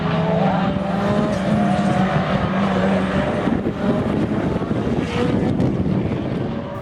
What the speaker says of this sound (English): Here's Aaron Fadadal in his Evo 5 RS.